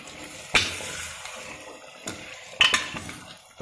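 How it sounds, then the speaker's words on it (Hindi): Metal spoon scraping and clanking against a pot while mutton curry is stirred, a few sharp clinks spaced out over soft background noise, close and clear with no talk. "और चम्मच से बिल्कुल अच्छे से मिक्स कर देंगे"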